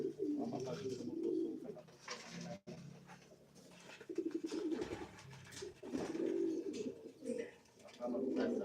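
Soft, repeated cooing from a pigeon, a warbling low call recurring in several phrases with short pauses, fairly close and moderately quiet over faint background noise.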